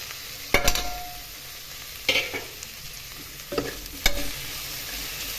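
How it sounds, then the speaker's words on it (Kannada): Tomatoes stir-fried in a pan for gourd pulao: four sharp scraping stirs of a spoon against the pan, spaced a second or so apart, over a faint continuous sizzle, close up with no talking. "ಟೊಮೊಟೊ ಹಾಕಿ ಮಿಕ್ಸ್ ಮಾಡಿ"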